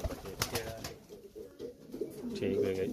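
Fancy pigeons, including magpie breeds, coo at close range in soft rolling bursts, with other birds calling and some background voices around them.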